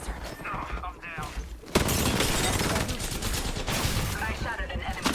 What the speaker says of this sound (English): I shot at an enemy